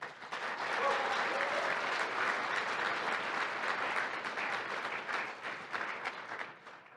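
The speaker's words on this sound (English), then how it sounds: "Let's have a round of applause for them." An audience at the 2022 Chicago Saint Patrick's Day Parade Queen Contest claps for the contestants, a full, even burst of applause that holds for several seconds before thinning slightly at the end.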